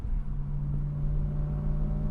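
Low, steady exhaust drone heard from inside a BMW E92 M3 cabin with a window opened slightly, a constant deep hum holding at even loudness without breaks.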